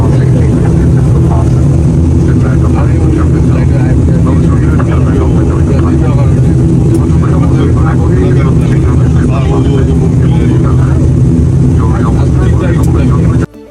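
Steady, loud low drone of a domestic passenger airplane cabin in flight from Sylhet to Dhaka, continuous throughout with a voice talking over it.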